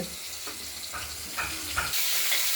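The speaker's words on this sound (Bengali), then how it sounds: "ভাজা হোক, দেখতে থাকুন, ভাজা হচ্ছে" Potatoes frying in a pan for a fish curry, a continuous crackling sizzle with soft stirring scrapes, which swells into a louder, hissing burst near the end, with no talking.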